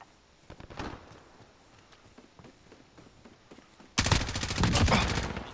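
Gunfire in Call of Duty Modern Warfare 2019 multiplayer: scattered, fairly quiet distant shots at first, then a sudden loud, dense burst of rapid automatic fire that continues to the end.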